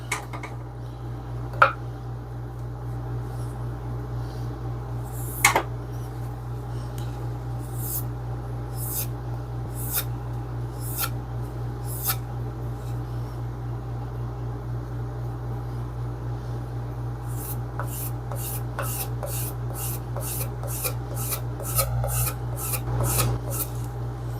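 A spokeshave blade is drawn repeatedly across a sharpening stone to take off a tiny burr, giving dry rasping strokes that speed into a quick run of short scrapes near the end, close by over a steady low hum.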